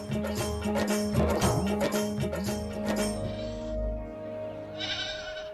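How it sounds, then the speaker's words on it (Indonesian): A young goat bleats several times at close range, wavering cries with clear harmonic pitch, followed by quieter rustling. "Anak kambing ini sepertinya kehilangan induknya."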